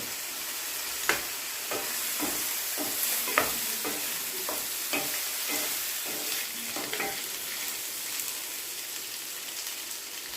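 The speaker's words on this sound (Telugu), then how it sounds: "కుక్కర్లో వేసిన మటన్ ఉంది కదా అది ఇందులో వేసుకోవాలి వేసుకొని కలుపుకోవాలి" Pressure-cooked mutton is stirred into a frying pan for mutton fry, producing steady sizzling with repeated scraping spoon strokes at an uneven rhythm, close and fairly loud.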